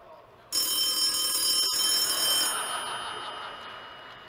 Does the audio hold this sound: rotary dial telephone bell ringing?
yes